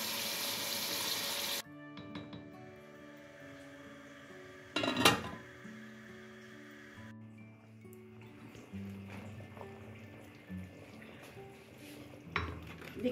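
Water is poured into a cooking pot of sautéed potatoes and peas (aloo matar) in a short, noisy gush at the start, followed by quieter kitchen clatter, a sharp metallic clank of the pot and faint tonal background sounds.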